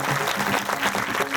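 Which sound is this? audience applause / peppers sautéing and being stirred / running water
audience applause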